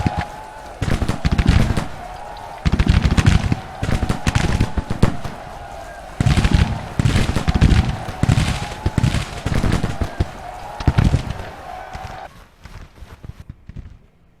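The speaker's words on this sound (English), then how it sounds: "that is 2 brigades together firing those volleys" Rifle volleys from two massed brigades in a Civil War battle game roll out in repeated bursts of dense crackling gunfire, loud and close, with rhythmic clusters of shots and short pauses between volleys.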